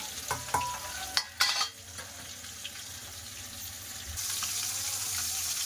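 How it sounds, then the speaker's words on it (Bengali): Fish sizzles as it fries in a pan in a home kitchen, with a few sharp clatters from stirring near the start and a steady hiss that grows slightly louder toward the end. "আমি একটু মায়টা ভাজতেছি"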